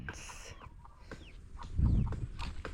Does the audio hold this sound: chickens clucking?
yes